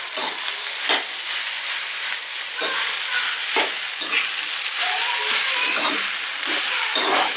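Thai fried rice with red sauce sizzles and crackles steadily in a hot pan while a spatula scrapes and tosses it at a regular pace, loud and close.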